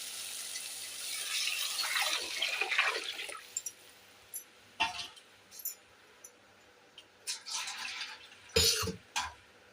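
Tamarind water splashes and pours into a cooking pan for fish curry in a few short bursts, with quieter gaps between them and soft background noise.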